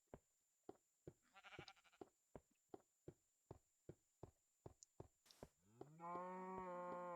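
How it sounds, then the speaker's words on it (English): A cow mooing in the Minecraft video game, a single low drawn-out moo near the end, preceded by a run of evenly spaced clicks and taps. "Moo to you too, cow."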